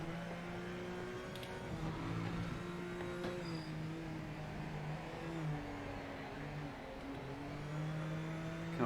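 Race car engine in the Project Motor Racing video game: a steady, moderately quiet engine drone with rising and falling revs through gear changes, heard alone.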